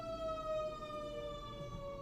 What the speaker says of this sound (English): What an odd siren.